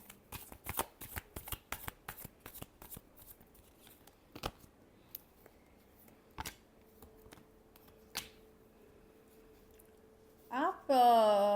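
Tarot cards are shuffled in a quick run of crisp riffling snaps, followed by a few scattered single card flicks and quiet handling. A voice speaks near the end.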